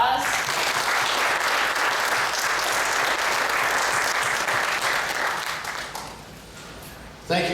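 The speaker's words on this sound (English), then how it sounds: "If you guys want to give these gentlemen a round of applause." Audience applause for panel members at a farm days polled genetics panel: loud, steady clapping from a crowd that holds for about six seconds, then thins and fades, with a brief sound at the very end.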